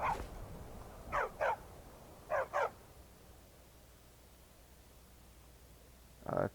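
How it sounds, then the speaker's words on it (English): A dog in the video game Skyrim barks in short pairs, two double barks and a final single bark, moderately close over quiet ambience, with no talking. "I think that's just a dog and not a"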